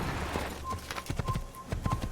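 Horse hooves gallop in the Assassin's Creed video game, giving quick, rhythmic clip-clop thuds at moderate volume that run steadily over faint background game ambience.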